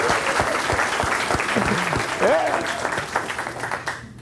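Lecture hall crowd clapping, hooting and cheering, dense applause with whoops and shouted voices rising over it, fading out after about four seconds.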